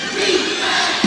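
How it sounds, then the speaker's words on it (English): A crowd at a college men's basketball game against Clayton State chants in unison, a loud, dense roar of many voices filling the whole short burst. "Crowd chanting defense."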